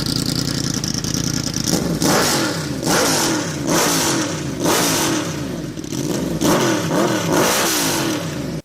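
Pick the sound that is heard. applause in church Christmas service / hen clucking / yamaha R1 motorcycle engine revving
yamaha R1 motorcycle engine revving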